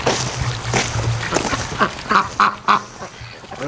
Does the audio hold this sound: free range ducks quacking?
yes